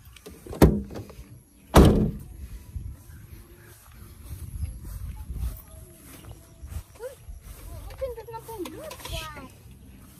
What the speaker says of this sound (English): Okay, close now the door.